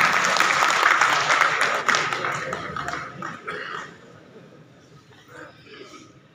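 An audience at a poetry recital applauding a poet, loud dense clapping at first that thins and fades away, with a voice speaking over it.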